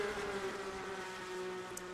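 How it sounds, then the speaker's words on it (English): Race car engines in a NASCAR racing video game during the Golden Corral 500 hold a steady, buzzing drone at an even pitch, with no voices over it. "As you just listen to those engines purr like kittens."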